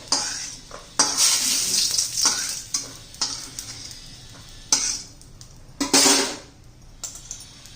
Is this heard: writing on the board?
no